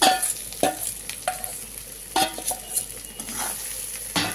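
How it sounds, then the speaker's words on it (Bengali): Shrimp stir-fried in a pan with banana flower, a soft continuous sizzle broken by repeated scraping strokes and clinks of a spatula against the metal, close and with no voices. "আর সঙ্গে দেবো এবার চিংড়ি মাছটা, দিয়ে দিলাম চিংড়ি মাছটা আমি।"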